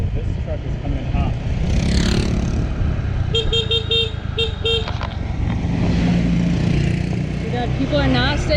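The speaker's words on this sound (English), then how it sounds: "Oh, this truck is coming in hot." A truck speeds toward a scooter on a busy island road on Nusa Penida, Bali, with short horn toots cutting through steady engine and wind noise, and a voice talking over the traffic.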